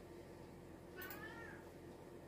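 A single cat meow rises and falls over a steady background hum, brief and fairly clear.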